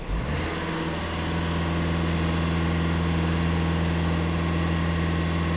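A Skoda Octavia A7 2.0 TDI EA288 diesel engine is revved from idle up to a steady raised speed. The drone is loud and close and held evenly through the rest, with no talk.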